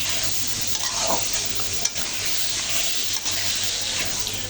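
Chunks of eggplant and potato with spices cooking in hot oil and being stirred in a pan, giving an even sizzle with a few scraping knocks and a sharp clack partway through.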